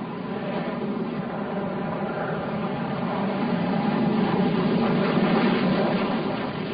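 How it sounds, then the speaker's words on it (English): A SEPECAT Jaguar jet lands on a motorway with a steady, broad roaring drone that swells slightly as it continues. "What makes the Jaguar so suited for these landing conditions is its low approach speed."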